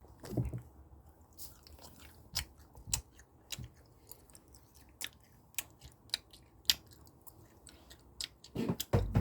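Someone eats a lemon-flavored fruit sandwich snack, tearing it and chewing close to the mic, with sharp crunchy bites scattered irregularly over quiet chewing.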